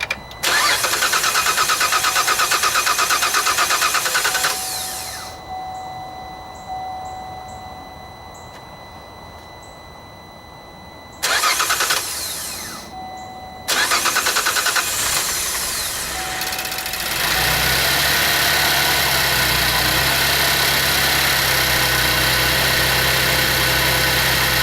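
A GM SUV engine from the Traverse, Acadia, Enclave and Outlook family cranks loudly in bursts, catches and starts roughly after carb cleaner was sprayed into the throttle body, then settles into a steady, close idle rumble.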